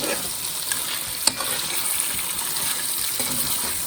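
Mutton karahi sizzling in a pan as yogurt is stirred in, a constant loud frying hiss with a sharp scrape of the spoon near the middle and faint clinks.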